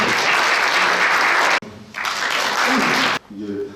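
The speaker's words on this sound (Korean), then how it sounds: "박수로 맞이해 주시기 바랍니다" An audience at a Korean science forum on medical AI and health big data claps to welcome a speaker, two loud bursts of dense applause with a brief break between them, then fading.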